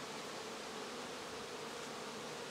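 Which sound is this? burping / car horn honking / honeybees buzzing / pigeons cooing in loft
honeybees buzzing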